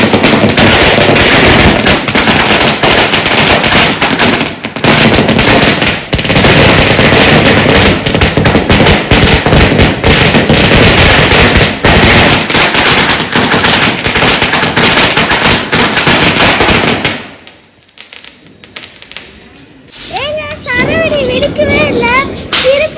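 Diwali firecrackers go off in a long, loud, continuous crackling barrage of rapid bangs close by, then drop away briefly before scattered pops return alongside a few faint voices.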